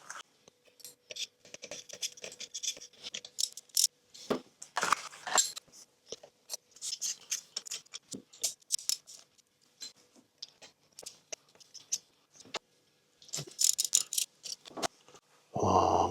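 A hand ratchet tightens spark plugs on a BMW M140i, giving bursts of quick, close metallic clicks separated by short pauses, with a few brief louder clatters.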